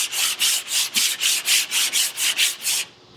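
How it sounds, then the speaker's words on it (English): Sandpaper worked by hand across lowrider car bodywork at an angle, about eleven even back-and-forth rasping strokes in a steady rhythm, close and clear, ending abruptly. "You want to sand at an angle for a little while"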